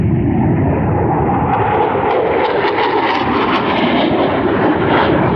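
Jet planes roar low through mountain terrain, a loud, continuous, broadband engine rush that fills the whole span and swells slightly as they pass close by.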